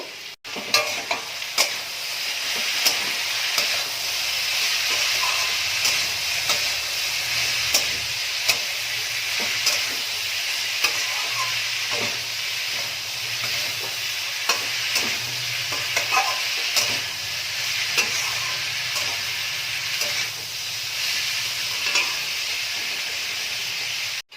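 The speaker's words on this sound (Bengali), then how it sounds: "দুই তিন মিনিট অনবরত দেখো নাড়াচাড়া করতে করতে সবজিগুলো প্রায় একটু মজে এসছে" Yard-long beans and potato with spices and a little sugar sizzle in a hot pan under constant stirring, with a spatula clacking against the pan again and again over a continuous close hiss.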